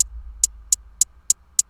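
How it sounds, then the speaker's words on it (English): A hi-hat sample in an FL Studio beat ticks alone in a steady pattern, six crisp, short, high metallic hits evenly spaced about a third of a second apart. "I have a hi-hat."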